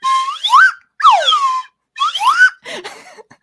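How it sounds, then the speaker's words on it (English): A slide whistle plays alone, loud and close, in three sweeping phrases that glide up and down in pitch, split by short silences, before a breathy, fluttering final burst. "So instead, you're gonna get a slide whistle."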